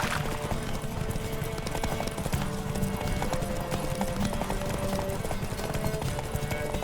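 Roach, a horse in The Witcher 3, gallops with a steady, rapid clip-clop of hooves close by, a brief whinny breaking in over a dense game soundscape.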